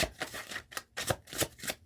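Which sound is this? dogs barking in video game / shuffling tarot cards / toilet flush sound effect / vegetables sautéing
shuffling tarot cards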